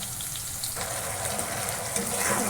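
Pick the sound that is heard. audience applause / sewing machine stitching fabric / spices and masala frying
spices and masala frying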